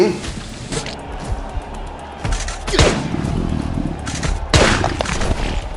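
Gunfire in the mobile survival game Last Day on Earth: several loud, sharp shots and bursts ring out at irregular intervals, with someone talking over them.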